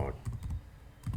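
Quick bursts of typing on a computer keyboard, a few close, light clicks in an uneven rhythm, heard alone with no talking.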